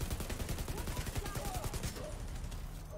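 Automatic turret gunfire in The Division 2 rattles in dense, rapid bursts for about two seconds, then cuts out and leaves a quieter, low background rumble.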